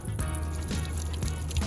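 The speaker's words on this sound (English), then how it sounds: "Completely getting flushed. Flushing from the radiator now," Coolant water flushing out of the radiator of a Yamaha Aerox 50 LC scooter, a close, continuous trickling and splattering flow with small irregular splashes, moderately loud and uninterrupted, no talking.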